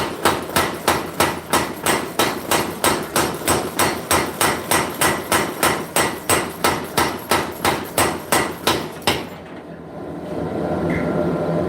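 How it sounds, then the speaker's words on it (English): A power hammer pounds a broken sword piece to draw out its thickness, striking in a fast, loud, steady rhythm of about two dozen blows before stopping, followed by a lingering hum. "I want to come over here to the power hammer and probably use it to draw out the thickness"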